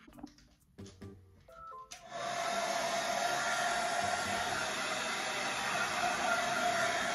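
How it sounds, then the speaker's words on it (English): Hairdryer blowing onto poster paint on a face, switched on after a couple of seconds of beeping tones and then running as a steady loud whooshing roar with a constant whine. "Do you want the hairdryer on it?"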